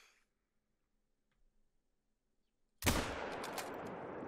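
After near silence, a single sharp rifle shot cracks out while hunting pheasant in theHunter: Call of the Wild, loud and sudden, followed by a sustained ringing, rumbling echo that trails off slowly.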